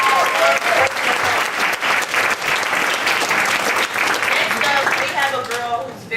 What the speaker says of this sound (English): I want everybody to give her another round of applause because it's really hard.